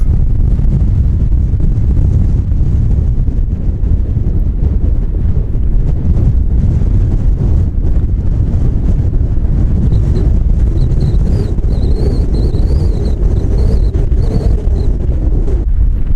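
Strong wind buffeting the microphone on a windswept Falkland Islands shore, a loud continuous roar with faint higher tones drifting in later.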